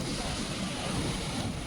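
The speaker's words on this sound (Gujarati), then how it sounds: "મોજા જો કેટલા બધા આવે" Ocean waves rolling in at the Somnath shore on the Gujarat coast, a steady broadband roar of surf and wind with no distinct breaks, constant and fairly loud throughout.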